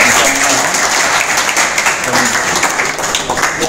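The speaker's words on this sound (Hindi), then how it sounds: "तो एक बार जोरदार तालियां।" Loud, dense applause from an audience at a ceremony where LIC honors Paralympic athlete Tarun Dhillon with a cheque, a steady wall of clapping that carries unbroken from start to finish.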